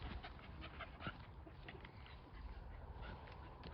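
Dogs pant quickly and rhythmically up close, with faint snuffling and outdoor background noise, all fairly quiet.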